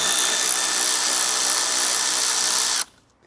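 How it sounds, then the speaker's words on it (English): Power tool working on a C8 Corvette Z06 during carbon spoiler installation, a steady close whirring drone that runs for under three seconds and then cuts off abruptly to near silence. "we're gonna go ahead and use the T15 third socket, a 7mm socket, and a plastic clip extractor tool as well."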